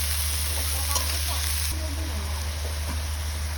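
Eggplant frying in fish oil gives a steady, close sizzling hiss with a faint stirring clatter and faint voices in the background.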